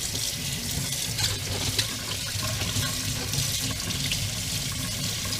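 Water runs steadily from a tap while a French press coffee maker is washed in the sink, a loud continuous splashing rush with small irregular clatters and no voices.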